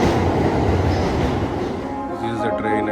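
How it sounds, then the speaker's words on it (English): A JR Yamanote line commuter train in Tokyo rumbles loudly and steadily with a broad rushing roar of wheels and carriages, heard close from on board or at the platform. "This is the train Yamanote line."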